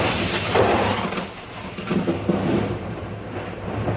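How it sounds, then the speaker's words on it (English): Low rolling thunder rumbles through a storm, a broad deep roar that swells, dips briefly, then builds again, with no voices present. "I hate thunder and lightning."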